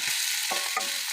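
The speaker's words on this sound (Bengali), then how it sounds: "এখন আমি ফুলকপিগুলোকে দিয়ে দেবো" Cauliflower florets frying in a pan with a constant bright hiss, with a couple of soft knocks from the pieces going in, close by and moderately quiet.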